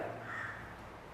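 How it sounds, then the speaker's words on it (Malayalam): A crow caws once, faint and some distance away, in an otherwise quiet outdoor setting. "കാക്കച്ചി കരയുന്നുണ്ട്."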